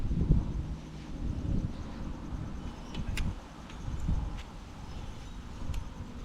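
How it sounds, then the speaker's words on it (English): Gusty wind buffets the microphone outdoors, low rumbling surges rising and falling with a few faint ticks and rustles, no voices. "It is getting really windy."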